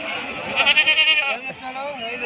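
Goats bleat in a short wavering burst at a busy sheep and goat market in Gudur, with crowd talk and bargaining voices continuing underneath and after.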